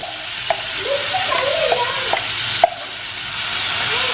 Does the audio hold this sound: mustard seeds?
yes